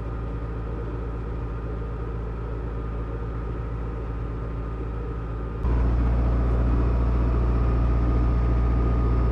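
A narrowboat's diesel engine chugs steadily on a quiet canal, then abruptly steps up to a louder, deeper, rougher throb as the throttle is opened to overtake another boat.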